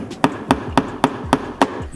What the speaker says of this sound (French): Ou alors on tape au marteau